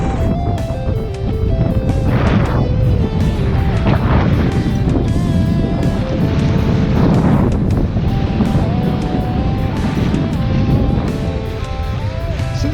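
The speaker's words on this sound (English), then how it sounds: "I put the camera up into the wind." Strong wind buffets a camera at rocky Sandy Cape during an Australian circumnavigation, a loud, constant roaring rumble with surging gusts and a steady tonal hum beneath.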